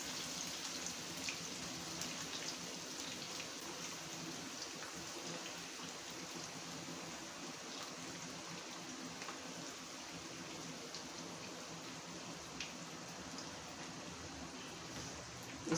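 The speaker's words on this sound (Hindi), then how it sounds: "इसको मैंने थोड़े से ऑयल के अंदर इसको फ्राई कर लेना है" Onions fry in a little oil, giving a faint, steady crackling hiss like light rain that holds evenly throughout.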